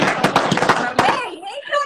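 Firecrackers at a birthday celebration go off in a rapid string of sharp pops and bangs, loud and close, with a voice talking over them as the bursts end.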